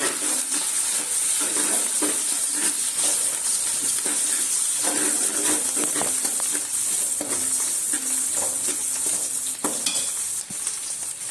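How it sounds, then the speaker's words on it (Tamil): Onions frying in oil with mint, coriander and green chilli for chicken biryani, a continuous loud sizzle with regular scraping stir strokes throughout, close up and without talking. "நல்லா வெங்காயம் வதங்கணும்."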